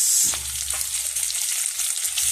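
Bangus (milkfish) sautéing in a hot pan, a steady sizzle and frying crackle close by, opening with a brief clatter as it goes in, then continuous spitting hiss throughout.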